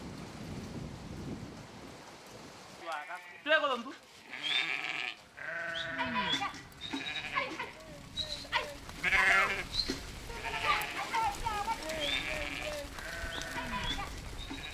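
Several goats bleat at water wells dug into a dry riverbed, a cluster of wavering calls overlapping one another at moderate distance over a soft outdoor background, with no talk.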